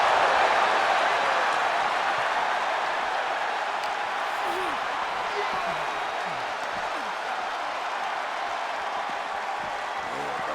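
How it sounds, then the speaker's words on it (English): A raucous arena crowd at a WWE 2K24 wrestling match roars and cheers in a steady, dense wall of noise that holds loud and unbroken throughout. "What a raucous crowd here tonight."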